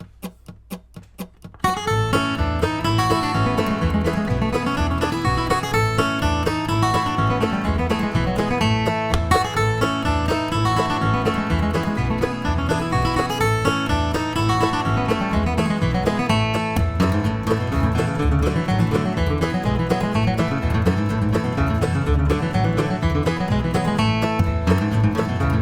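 A flatpicked acoustic guitar plays the fiddle tune Big Sandy River up to tempo over a backing track, with fast, steady picked melody notes above a full strummed accompaniment throughout after a brief quiet start.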